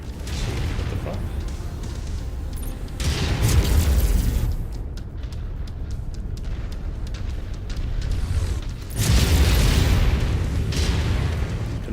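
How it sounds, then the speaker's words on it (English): Missiles slam into a mech in MechWarrior 5: Mercenaries, producing repeated deep booming blasts in two clear waves over a constant rumbling battle din, loud and close. "Incoming missile."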